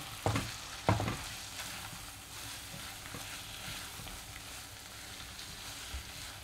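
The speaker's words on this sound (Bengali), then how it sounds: "দিয়ে আমি সমস্তটা একসাথে কষে নেব।" Shrimp and spices fry in a pan over medium flame with a constant close sizzle and hiss, opened by two sharp clinks of a spatula, then soft stirring scrapes. No one speaks.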